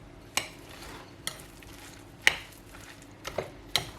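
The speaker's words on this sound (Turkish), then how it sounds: "Böyle karıştırıyorum şu anda bunu." Food is stirred in a pan for breakfast, with sharp scraping clacks of a utensil against the pan about five times over a soft background sizzle, close and fairly loud.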